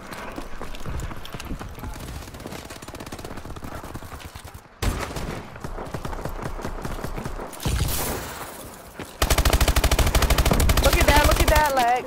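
Gunfire in the Call of Duty Advanced Warfare video game, loud and dense bursts of rapid shots that continue through the clip, with brief breaks, then a louder stretch near the end.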